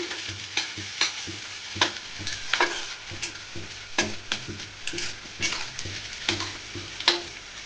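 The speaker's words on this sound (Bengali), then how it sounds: "যতক্ষণ পর্যন্ত পেঁয়াজটা না লাল হচ্ছে নাড়তে থাকবো" Chopped onion sizzles in a frying pan as a spatula stirs it repeatedly until it turns reddish, with irregular scraping clicks over a steady frying hiss, close and fairly loud.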